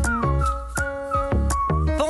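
Whistled theme tune of a new feel-good DIY TV show, a clear melodic whistle carrying a tune over a backing accompaniment with rhythmic beats, loud and close throughout.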